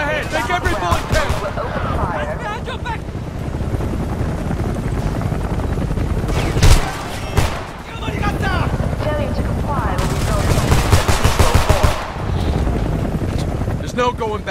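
Gunfire in the video game Homefront during a fight at a fence, loud bursts of shooting mixed with helicopter rotor roar and battle noise, with shouted voices over the din.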